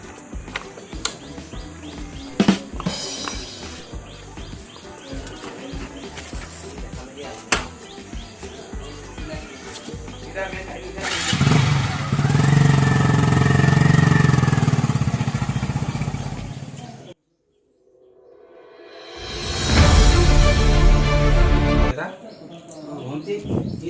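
A motorcycle engine roars loudly for several seconds, cuts out to brief silence, then revs up again; before it, a busy background of chirping birds, rattles and some voices.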